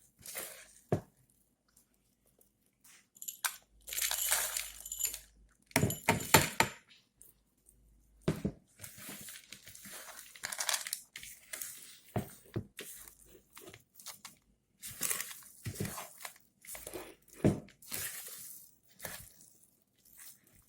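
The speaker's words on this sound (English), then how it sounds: "Okay, now we're going to add chocolate chips gradually. We're gonna mix it." A spoon or spatula folds chocolate chips into cake batter by hand, making scattered soft scrapes, clicks and thick stirring sounds in uneven bursts with quiet pauses between them.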